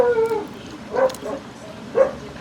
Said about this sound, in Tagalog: Pasensya na kayo maingay ang, ang aso.